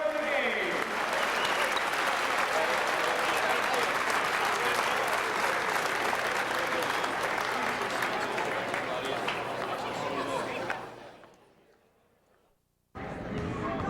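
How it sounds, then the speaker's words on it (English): A gym crowd at a high school boys basketball night gives sustained loud applause for returning alumni, dense clapping with light chatter that fades out near the end before a brief return of room noise. "one more round of applause for our alumni who are here tonight"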